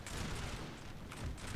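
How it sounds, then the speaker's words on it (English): Musket volley fire in a Napoleonic Total War battle, a dense, continuous crackle of distant massed gunshots rolling over a low rumble, with brighter bursts near the end. "Let's return musket fire!"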